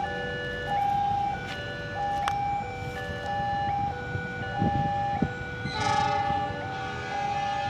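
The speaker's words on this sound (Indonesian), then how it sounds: "pintu perlintasan yang di sini sama yang di sini ini berbunyi nih dua sekaligus ini" Two sets of railway level crossing bells on an Indonesian line toward Cirebon ring together repeatedly in steady alternating tones, with a brief spoken word and faint background rumble.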